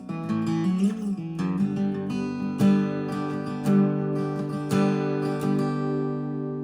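An acoustic guitar plays the harder second section of the intro, with plucked notes and strummed chords ringing out in an uneven rhythm, close up with no voices.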